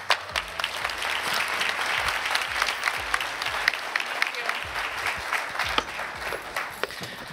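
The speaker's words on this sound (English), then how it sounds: "Give her a big round of applause." An audience breaks into sustained applause, a dense steady wash of clapping from a crowd at a live stage event, lasting several seconds with no talking over it.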